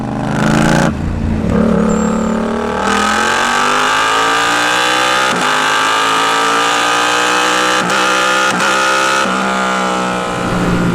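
A Yamaha R7 sport motorcycle, 60th anniversary limited edition, revs loudly and continuously, its engine note climbing steadily through the gears with brief dips at each shift, close and alone with no talking.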